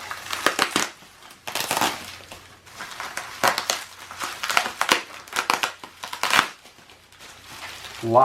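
A box holding a 72V 21700 battery pack is opened, with loud bursts of crinkling and crushing packaging material in irregular handfuls and short quiet gaps between them, close to the listener.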